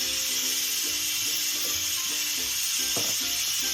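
Cumin seeds sizzling in melted butter and olive oil in a pan, a loud continuous hiss with crackling pops and a brief stir near the end.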